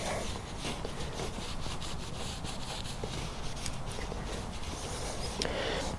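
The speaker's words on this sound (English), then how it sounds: "Rag is pretty saturated with brake clean right now, so I just give it a wipe down" A rag saturated with brake cleaner wipes down a snow thrower part during an Ariens ST824 refurbish, giving a steady, close rubbing and scuffing sound that continues without pause.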